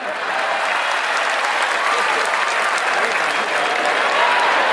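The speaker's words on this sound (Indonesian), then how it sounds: "Ini partisipan yang bagus, tepuk tangan." An audience applauds during the Bali governor's opening speech at PKB 2022, a full, sustained wash of many hands clapping that holds steady and swells slightly toward the end.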